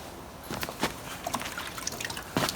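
Water splashes and drips over blackened metal being washed, with a few soft wet splatters and trickles at close range, quiet and intermittent.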